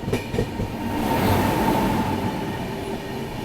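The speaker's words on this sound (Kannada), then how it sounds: "ಕನ್ಯಾಕುಮಾರಿ ಪುಣೆ ಎಕ್ಸ್ಪ್ರೆಸ್." Kanyakumari–Pune Express rolling past, a loud steady rumble of wheels and carriages with a faint clickety-clack and a thin metallic whine over it.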